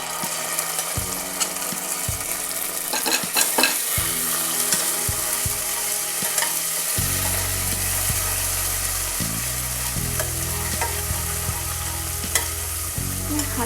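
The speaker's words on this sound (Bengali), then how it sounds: "তেলটা হালকা গরম হয়ে গেলে আমরা এর মধ্যে পোস্ত বাটাটা দিয়ে দেবো।" Poppy seed paste sizzles steadily in hot oil in a pan for mustard hilsa, with repeated scraping and clattering of a stirring spoon throughout.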